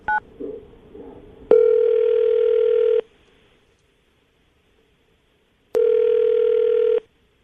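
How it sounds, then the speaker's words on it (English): Two long telephone ringback tones sound while a number is dialed, steady and loud with a long silent gap between them, after a few brief soft clicks. "I'm going to dial the phone number, see if we can get her on the phone"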